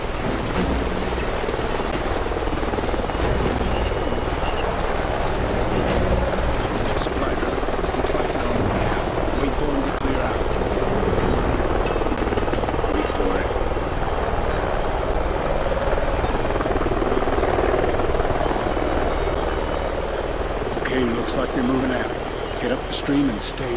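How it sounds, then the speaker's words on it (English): In Call of Duty: Ghosts, a helicopter thrums steadily and loudly nearby, its rotor and engine drone constant throughout, with muffled voices faintly beneath it. "Sounds like a chopper's up ahead of us."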